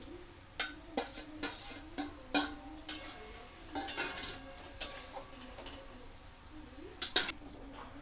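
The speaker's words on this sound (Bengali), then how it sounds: "সুন্দর করে এবার কষিয়ে কষিয়ে রান্না করতে হবে এটা" Rohu fish curry with pumpkin cooks in a pan as turmeric, chilli and ginger are stirred in, a soft sizzle under repeated sharp clinks and scrapes of a spoon against the pan in an irregular rhythm.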